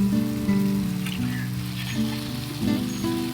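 Spices with salt and a little turmeric fry in a pan for a Bengali rita fish dish, giving a steady, close sizzle and crackle under a constant background tone, with no talking.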